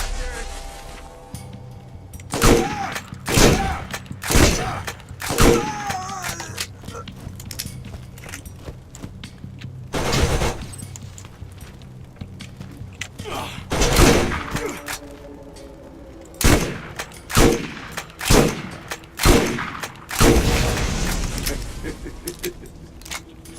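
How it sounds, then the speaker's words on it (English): Gunfire in the video game Borderlands, a series of sharp, loud shots and impact bursts spaced irregularly over a steady game ambience, sometimes in quick clusters of two or three. "I can shoot through this angle."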